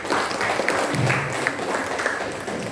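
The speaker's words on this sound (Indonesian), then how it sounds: "Kita berikan aplaus ya." Audience applause at the opening ceremony of a Quran memorization competition, a steady wash of clapping filling the whole stretch at moderate loudness with no voices over it.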